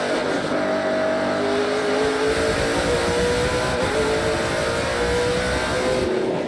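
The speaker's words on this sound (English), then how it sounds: "He looks so calm in that race car, does Marc-Antoine Cameron" Loud, steady roar of NASCAR Pinty's Series race car engines at the Grand Prix of Toronto street circuit at Exhibition Place, with rising and falling engine tones throughout and no voices.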